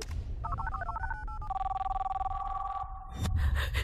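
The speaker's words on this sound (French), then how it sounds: "Je crois qu'il a entendu le téléphone sonner." A telephone rings inside a house, electronic warbling tones repeating steadily at moderate volume, then giving way to a louder rumbling burst at the end.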